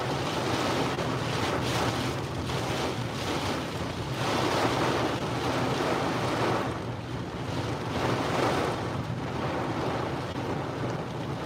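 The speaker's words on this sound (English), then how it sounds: "picking up some wind again" Strong wind roars steadily across a microphone during a tornado warning in southwest Missouri, a loud, continuous broadband rush with gusty swells and no voices.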